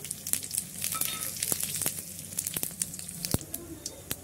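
Dried red chillies, bay leaves and cumin crackle in hot oil, giving a steady close sizzle broken by sharp pops and spits, with no talking over it.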